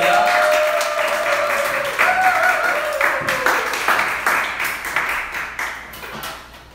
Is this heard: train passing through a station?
no